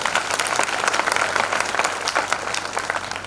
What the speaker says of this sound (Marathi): जरा जगलं तर टाळ्या वाजवा